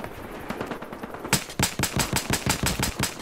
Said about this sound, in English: Yes! I killed him with a nail gun!